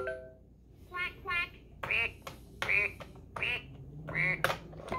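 Electronic duck quacks from a Fisher-Price Learn Piano baby toy, a quick series of bright, nasal quacks in short bursts, close and clear over a quiet room background.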